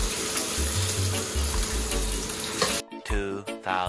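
Last night's vegetable dish sizzles and crackles loudly as it reheats in a pan, with steady frying, a few stirring movements, and then a brief break into softer sounds and a voice.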